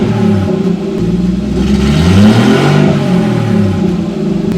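A Nissan 240SX off-road build with a new AEM fuel pump revs hard and steadily, its mid-pitched engine note climbing and falling through several throttle blips, loud and close with no talking.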